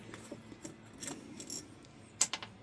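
Float bowl being removed from an old factory Mikuni carburetor on a 2003 Kawasaki Bayou 250: faint scraping and rubbing of metal parts, then a few sharp clinks near the end, close and quiet.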